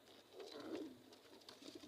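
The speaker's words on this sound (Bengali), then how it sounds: "আর এই যে আমার একটা সবচেয়ে পছন্দের কবুতর হলো এইটা" A pet pigeon gives a soft, low coo, quiet and close, over faint background hiss.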